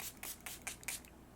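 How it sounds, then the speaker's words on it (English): Short bursts of e.l.f. oil spray misting several times in quick succession, soft hissing puffs at close range, alone with no talk. "This e.l.f. oil spray is actually kind of saving me"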